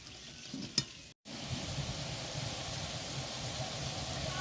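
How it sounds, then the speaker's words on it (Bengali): Masoor dal paste fritters fry in hot oil with a close, steady sizzle, briefly cut by a short silent gap before the sizzle resumes evenly. "এইভাবে তেলে ফেলতে থাকবো আর এটাকে একটু সময় নিয়ে ভাজতে হয়"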